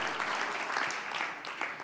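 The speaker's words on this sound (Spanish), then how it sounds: "Un aplauso para Él." A church congregation applauds during a Sunday service, a dense steady clatter of many hands clapping close by that fades slightly toward the end.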